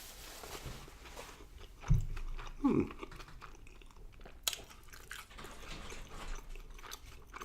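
Chewing on a bite of homemade triple ghost pepper pizza, close and quiet, with soft wet mastication and a couple of sharper crunchy bites breaking through the low background.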